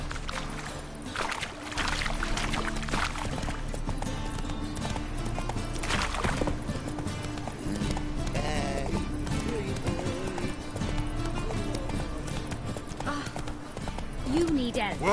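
Hoofbeats of Roach the horse galloping in The Witcher 3, a rapid rhythmic clip-clop running under loud game music and voices.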